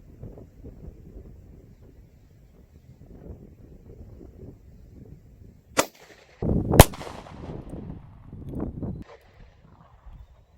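Two sharp, loud .357 Magnum revolver shots fired outdoors at a pineapple grenade, about a second apart, over light wind noise, the second followed by a rumbling tail and scattered debris sounds.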